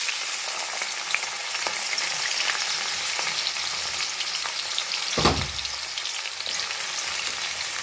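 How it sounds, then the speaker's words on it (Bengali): Finely chopped onions sizzle steadily in hot oil for a Bengali chickpea curry, a constant crackling fry with a brief louder stir or clatter midway. "সেই পেঁয়াজ কুচিটা আমি এর মধ্যে দিয়ে দিচ্ছি তেলের মধ্যে।"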